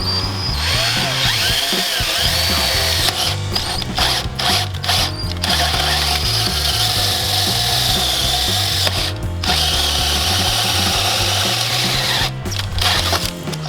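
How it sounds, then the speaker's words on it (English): A power drill grinds continuously with a ratcheting, churning drone while drilling holes in a deck, its pitch wavering under pressure and dipping briefly a few times. "when you're drilling, make sure you put a lot of pressure into it"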